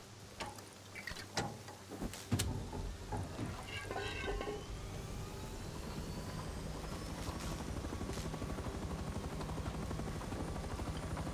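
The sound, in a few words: helicopter in the video game Rust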